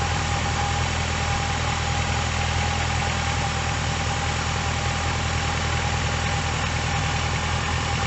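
A car engine with a failing alternator idles in a loud, unbroken drone with a steady whine running through it, close and constant for the whole stretch.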